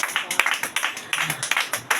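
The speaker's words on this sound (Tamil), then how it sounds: "ஒரு கைத்தட்டு கொடுங்க இயேசுவுக்கு." A church congregation claps for Jesus in steady, rhythmic unison, the sharp claps evenly spaced and fairly close, filling the room for a couple of seconds.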